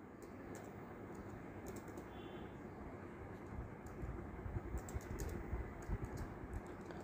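Soft keyboard typing while entering HTML code, light clusters of keystrokes tapping faintly in short bursts over a steady room hum.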